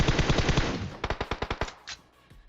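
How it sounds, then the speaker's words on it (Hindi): Machine gun fire in the video game PUBG: a rapid burst of shots, a brief pause, then a second burst of about ten sharp, evenly spaced shots that trail off, heard alone. "अब ये लोग आगे गोलियां दबा के चला रहे हैं"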